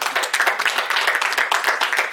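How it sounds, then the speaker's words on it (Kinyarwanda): An audience at a book launch ceremony applauds, a dense, steady patter of many hands clapping close by for about two seconds. "duhaguruke tumukomera amashyi"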